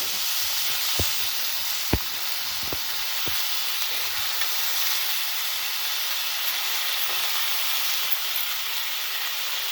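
Soaked chickpeas sauté in a pan with a constant loud sizzle and hiss, and a few sharp ticks and clicks of stirring come near the start.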